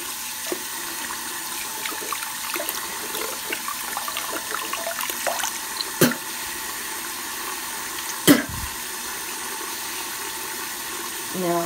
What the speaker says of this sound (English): Now, I'm going to leave the sink running